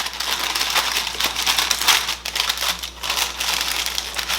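Wrapping being folded over into a pouch while preparing roasted beet hummus, giving a steady run of close crinkling and crumpling with soft rustling bursts, and no talk.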